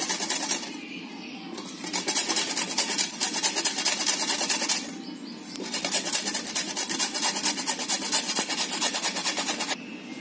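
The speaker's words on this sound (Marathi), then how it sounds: "आता किसणी आहे ना, त्याच्यावर मी किसते" Large beetroots being grated on a hand grater, close rhythmic rasping strokes in two long runs separated by a short pause, with no talking.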